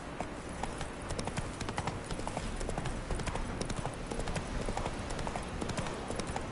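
A horse gallops in The Witcher 3, its hooves clip-clopping in a fast continuous patter beneath a dense, steady wash of game ambience, moderately loud throughout.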